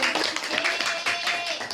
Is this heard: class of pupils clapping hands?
yes